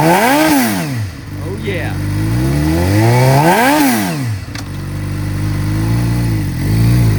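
A used 2013 Suzuki GSX-R600 supersport motorcycle engine revs loudly and close by, rising and falling in pitch through two big throttle blips with idle between, while someone speaks briefly.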